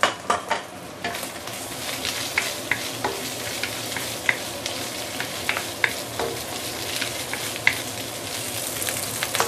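Shiitake mushrooms stir-fry in hot oil, a steady close sizzle broken by frequent sharp clinks and scrapes of a utensil against the pan.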